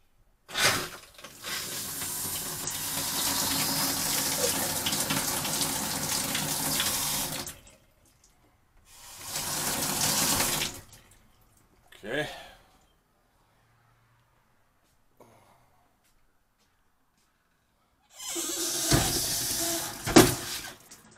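A new camper's faucet runs in loud hissing bursts that sputter with air in the line: a long stream, a shorter one, a brief spurt, then a final gush after a quiet stretch.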